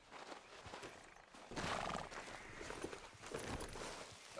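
A horse in the video game Red Dead Redemption 2 gives a faint neigh among soft clip-clopping hooves walking over ground, quiet and somewhat distant, with no talk.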